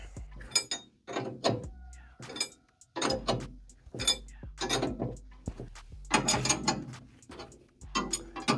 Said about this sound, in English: This just might be a very slow process with a wrench.